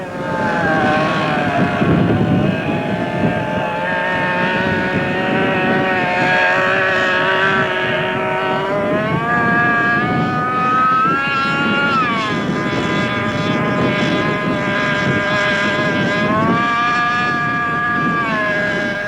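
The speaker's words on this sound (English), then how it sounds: "As you can hear, a single engine landing." A loud, sustained engine whine with a rising and falling pitch, a twin-jet model aircraft landing on a single engine close by, continuing steadily for the whole stretch.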